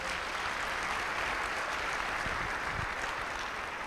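A congregation at a family church service applauds, a continuous, even roar of many hands clapping at steady loudness throughout, with a few low thumps underneath.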